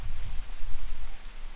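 Rain falls outdoors beside a camper van being prepared for a Gibb River Road trip, a steady broadband hiss with soft irregular patter, fairly loud, with no one talking.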